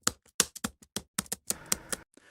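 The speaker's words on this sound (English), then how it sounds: "For sound effects, like the typing sound, I downloaded this from the Zapsplat website" Typing sound effect: a quick, irregular run of crisp, close key strikes, about a dozen taps with short gaps, ending in a faint trailing rattle.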